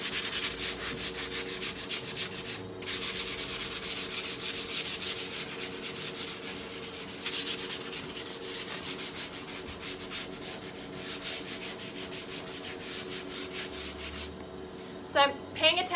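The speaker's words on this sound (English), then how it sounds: "I have 150 grit sandpaper wrapped around it, and I'm gonna go around to those areas. I'm just gonna lightly sand it." Light hand-sanding of painted wood with 150 grit sandpaper wrapped on a felt block, a steady close scratchy rubbing that runs almost continuously with short pauses and a change of stroke near the end.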